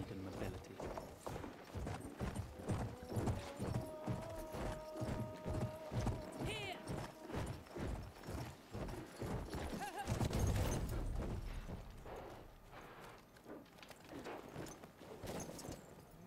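Horse hooves clip-clop in a steady rhythm in the Battlefield 1 video game, a run of regular thuds carrying under game music and mechanical sounds, with a speaking voice over part of it.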